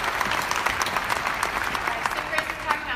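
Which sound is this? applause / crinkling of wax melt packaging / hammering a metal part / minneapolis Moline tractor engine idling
applause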